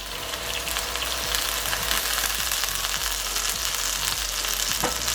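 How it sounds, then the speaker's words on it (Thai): Shrimp stir-fry with garlic and chilies in a hot pan, a loud continuous sizzle broken by scraping stirs of the spatula, close up with no talking. "ผัดจนกุ้งสุกเข้าที่"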